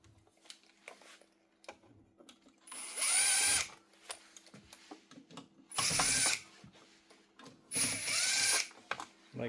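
A power drill backs screws out of the brush cover on an old Hiretech HT8-1 floor drum sander, giving three loud whirring bursts of about a second each, separated by quieter clicks and handling noises.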